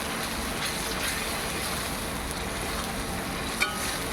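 Spices frying in a pan for a fish curry, a steady dense sizzle with a single faint clink near the end, close and without talk.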